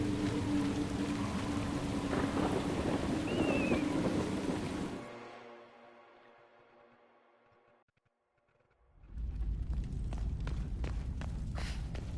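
Heavy rain and a thunder rumble in the game Dragon Age: Inquisition near a dam, a dense steady downpour that drops to near silence before the rain returns with sharp crackles.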